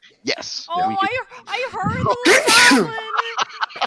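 One sharp sneeze bursts out during a tabletop game session, set among people talking, with the loud explosive release falling about midway.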